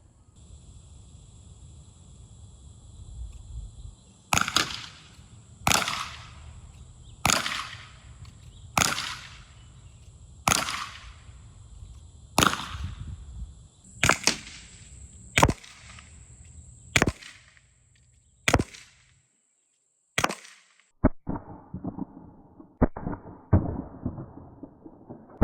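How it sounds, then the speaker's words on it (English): Byrna CL launcher firing at 2 1/4-inch Baltic birch plywood boards from 20 feet: about a dozen sharp, loud cracks at steady intervals over a low outdoor rumble, then a cluster of quicker, fainter clattering impacts at the end. "And we'll be shooting the plywood from 20 feet."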